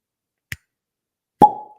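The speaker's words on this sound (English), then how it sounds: "Here is what an initial cork pop of a special edition E.H." A cork pulled from a special edition E.H. Taylor Barrel Proof Rye bourbon bottle gives a faint initial squeak, then one loud, close, hollow pop with a brief ringing tail, otherwise silent.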